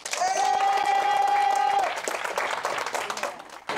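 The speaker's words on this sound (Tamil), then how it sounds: "நல்ல வலிக்க வலிக்க கைத்தட்டல் கொடுங்க" An audience at a Tamil film trailer launch applauds, and the dense clapping swells and then thins out. A held musical tone rings over the first half.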